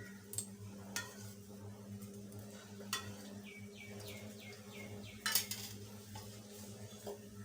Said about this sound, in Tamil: அடுப்பில் குக்கரை வச்சுட்டு தேவையான அளவு வந்து எண்ணெய் ஊற்றிக்கலாம்